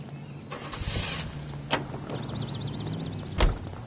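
A car in the video game L.A. Noire is started with a door-thump and rising engine whine, followed by a steady idle and a second sharp thud near the end.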